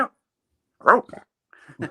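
A dog gives a few short, sharp barks in quick bursts, close by, separated by brief silences.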